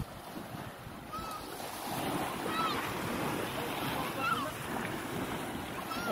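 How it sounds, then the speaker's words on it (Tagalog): Sea waves wash continuously onto a seashore at early morning, a broad steady surf roar with some wind buffeting the microphone and faint bird calls above. "Ito guys yung baybay dagat."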